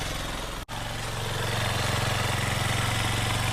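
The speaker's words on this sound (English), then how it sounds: "I don't know if you can hear me or not over the motorcycle" A Honda CRF230L motorcycle engine idles steadily up close, a loud continuous low putter with an even rhythm throughout, broken only by one very brief dropout near the start.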